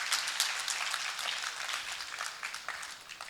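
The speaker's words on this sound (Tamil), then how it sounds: "கைதட்டு பத்தலைங்க." Scattered audience applause at a Tamil public speaking event, a fairly faint, continuous patter of hands clapping that thins slightly toward the end, with no voices over it.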